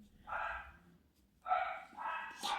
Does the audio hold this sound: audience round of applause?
no